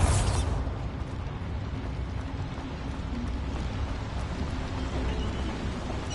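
Confringo and Bombarda spell blasts in a video game: a burst at the start that settles into a sustained, loud, rumbling and crackling roar, holding steady to the end with no speech.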